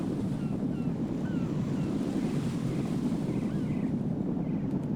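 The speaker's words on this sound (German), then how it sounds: "Also ab und zu kommt so ein Windstoß, der die Flagge ein bisschen wegweht." Steady wind rushing in the Metal Gear Solid 2 video game, a continuous low roar that holds at an even level for the whole stretch with no talking.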